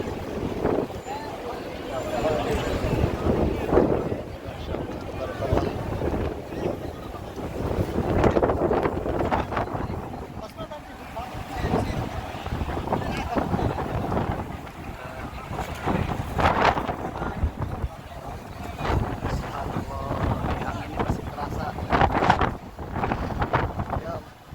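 Strong gusting wind during a dust storm in Mecca, buffeting the microphone in uneven surges, with someone speaking intermittently over it.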